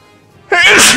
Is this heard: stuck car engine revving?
no